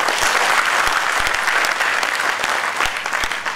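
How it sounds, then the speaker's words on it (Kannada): An audience at a Kannada public discussion event claps steadily, a dense, even burst of applause from a crowd that fills the room for a few seconds. "ಎಸ್ ಅಂದ್ರೆ ಎಲ್ಲರೂ ಒಂದು ಚಪ್ಪಾಳೆ ತಟ್ಟಿ ಹೇಳ್ತಾರೆ"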